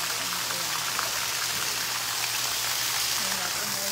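Steady rain falls in a dense, continuous hiss, close and even throughout, with no clear voices.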